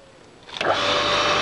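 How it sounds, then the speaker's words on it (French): A garden irrigation water pump's motor switches on after a quiet hum, surging up within a moment into a steady, loud whine that holds on alone. "Allumage des moteurs."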